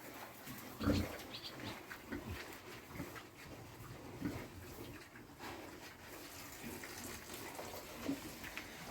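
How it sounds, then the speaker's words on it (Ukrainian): Water is poured for pigs in a farm pen with a hopper feeder, a steady splashing pour running throughout with occasional grunts and snorts from the animals nearby. "посюди воду наливаем"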